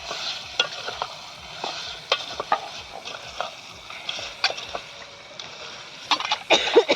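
Free-range village chicken frying with onion, turmeric and salt in a pot, a steady close sizzle broken by rhythmic stirring scrapes and clanks, fairly loud, with brief voices in the background.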